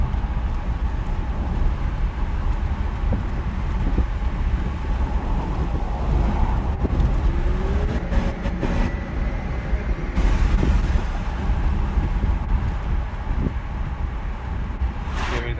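A 1986 Mercedes W126 420 SEL drives along with a steady, fairly loud broadband rumble of engine and road noise, with small bumps and surges but no clearly audible downshift into passing gear.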